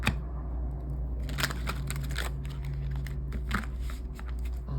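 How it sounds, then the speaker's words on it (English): A deck of tarot cards is shuffled by hand in bursts of crisp riffling and slapping, close and fairly loud over a low steady hum. "I want to shuffle this deck really good."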